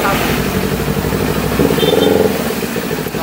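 Busy street traffic with cars and motorcycles engines running and revving close by, a steady mid-pitched drone throughout with a brief whine partway through, voices murmuring underneath.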